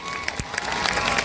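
Crowd applause and cheering at an outdoor live music show during a temple festival, a brief burst of steady clapping from a large audience.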